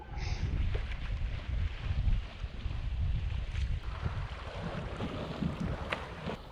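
A sailboat under sail, with the wind abaft the beam on the port side, moves through water while steady wind buffets the microphone and waves wash and slap softly throughout.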